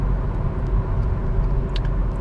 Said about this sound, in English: when you put the foot to the floor, you'll hear that CVT